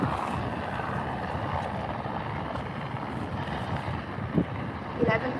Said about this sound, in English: Nice breeze coming in.